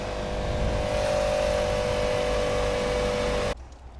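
Toyota Celica engine idling after five years parked, a steady close drone with a constant tonal hum that runs evenly before cutting off abruptly near the end, leaving only faint low background noise.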